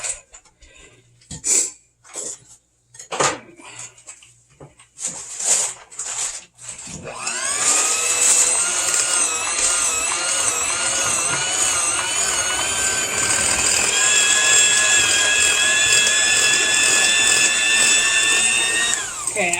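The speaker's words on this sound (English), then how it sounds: "I'm going to use the mixer." An electric hand mixer beats cake with cream cheese, whirring loud and steady after several bumps and handling knocks, its pitch wavering as the beaters work the thick mixture.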